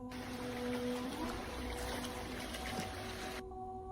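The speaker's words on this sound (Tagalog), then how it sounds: "may kalakasan ng agos ng tubig na dumadaloy sa batis na iyon" A strong current of water rushes through a stream in a steady broadband wash with a faint tonal hum beneath it. It holds evenly before cutting off abruptly near the end.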